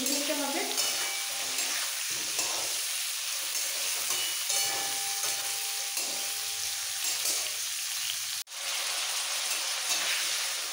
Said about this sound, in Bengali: নুন হলুদের সাথে আলু ফুলকপি মিক্স করে একটু নাড়াচাড়া করে ভেজে নিতে হবে